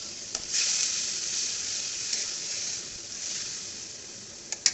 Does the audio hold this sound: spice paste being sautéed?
yes